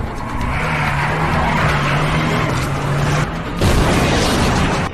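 A car carrying zombies clinging to it in a film scene roars along with a loud engine drone and tire squeal, then a heavier rumbling burst hits near the end.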